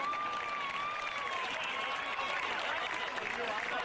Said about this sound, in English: a round of applause for both sides on an outstanding game of Grand Final football